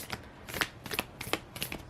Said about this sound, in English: I hate these cards are so hard to shuffle.